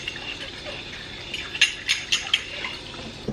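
Hot tap water runs over a jar lid in a sink as it is rinsed, a soft steady splash with a few small clinks and bumps in the second half.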